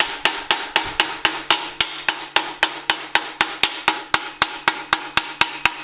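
Brass hammer striking metal car parts on a twin-turbo G-body build, a fast steady series of around twenty sharp ringing blows, close and loud.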